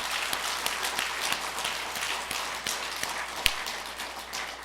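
A church congregation applauding during a Korean Sunday sermon, with a fairly quiet, even patter of many hands clapping and a steady low hum underneath.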